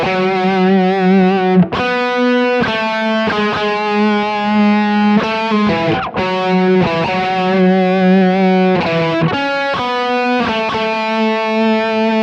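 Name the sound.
distorted electric guitar riff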